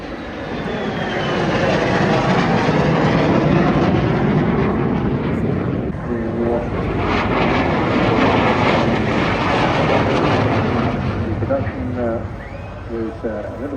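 A fighter aircraft flies past at the Eastbourne International Airshow, its loud, rumbling jet roar swelling and fading over the coast while an announcer talks over the noise.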